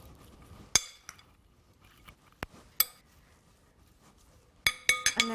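A spoon knocks against a bowl while pork pie filling is mixed: sharp clinks come singly and then in a quick cluster at the end, with quiet gaps between them and no talking.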